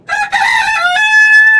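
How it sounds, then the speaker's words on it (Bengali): A farmyard rooster crows once, loud and close, a harmonic call that rises and then holds a long, steady note, with no voices around it. "দেখো কিভাবে ভাঙ দিচ্ছে।"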